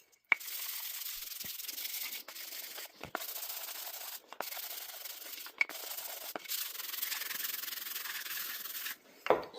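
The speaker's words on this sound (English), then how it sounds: "We're gonna go ahead and finish sand all of these" Pallet wood coasters get sanded by hand in long rubbing strokes, a close, rough hiss repeated in bursts with brief pauses and a few small knocks between passes.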